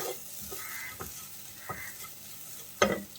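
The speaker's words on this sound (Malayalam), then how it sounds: "ഇനി നമുക്കിത് നന്നായിട്ടൊന്ന് വറുത്തെടുക്കാം." Crushed coconut mixture for a fish curry fries in a pan with a soft, steady sizzle, broken by a few quiet scraping stirs spaced about a second apart. No voices.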